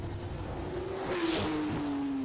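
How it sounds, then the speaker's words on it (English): Faint and distant, a turbocharged race car at a King of the Hammers hill climb holds a steady engine drone that sweeps slightly in pitch, with whooshing boost noise rising briefly midway. "Get ready for the boost noises."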